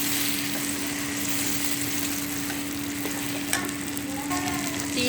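A butter and batter mixture is stirred in a hot pan on the stove, with a steady soft sizzle and occasional spoon scrapes close up and no one talking.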